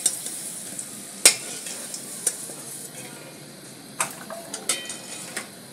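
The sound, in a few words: pointed gourd (potol) frying in oil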